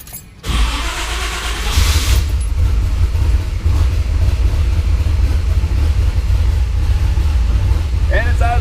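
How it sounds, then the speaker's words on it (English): Pontiac Trans-Am running on Microsquirt engine management, firing up after a brief pause and then settling into a loud, steady low rumble, with a faint voice near the end. "And it's idling at 500 RPMs."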